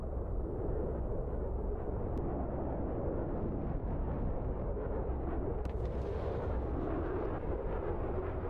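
An Iraqi Mi-25 helicopter is hit by an F-14 Tomcat's 20mm Vulcan gun, exploding and crashing in a dense, continuous, rumbling roar with a couple of sharp cracks.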